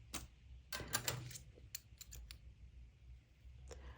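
Scissors snipping the loose yarn tails beside a magic knot, a few faint, crisp close-up clicks and cuts spread over a few seconds in a quiet room.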